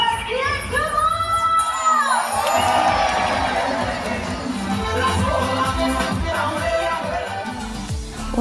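Crowd cheering and applauding at a dolphin show in an oceanarium, a loud sustained roar of many voices with whoops and children shouting, with a presenter's voice heard over it.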